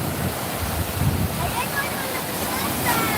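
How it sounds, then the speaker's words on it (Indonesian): Waves washing up on a beach, a steady broadband rush with wind noise on the microphone throughout. "Bagus sekali pantainya."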